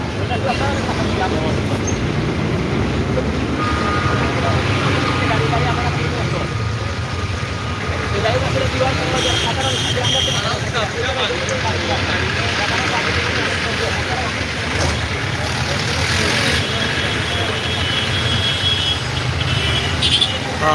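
Dense road traffic in a jam in Sylhet hums and idles continuously, engines droning nearby, while someone speaks over the steady congested noise.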